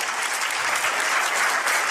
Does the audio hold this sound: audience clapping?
yes